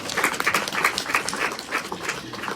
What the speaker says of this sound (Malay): Tepukan kepada anak saya.